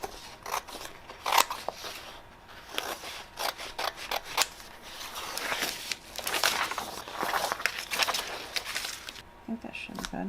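Scissors trimming a peel-and-stick sheet with a wood grain pattern, giving a run of quick crisp snips and rustles at close range, with soft handling noise between cuts.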